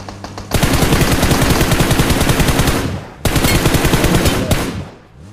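Sustained automatic gunfire in PUBG on the Erangel map, a rapid, loud burst of shots running for a few seconds, breaking off briefly, then resuming before trailing away.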